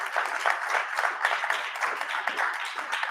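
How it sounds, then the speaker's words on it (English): An audience claps steadily for a speaker being introduced at an event, a sustained wash of applause with a slightly uneven rhythm and no clear speech on top. "Please give him a round of applause."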